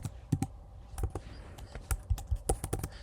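Typing on a computer keyboard: quick, close, quiet key clicks in irregular bursts, with short pauses between groups of strokes and no talk.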